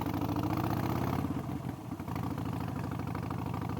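A Harley-Davidson Sportster motorcycle engine idles close by with a steady, loud, lumpy rumble that dips briefly midway before settling back.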